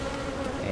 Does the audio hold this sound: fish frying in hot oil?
no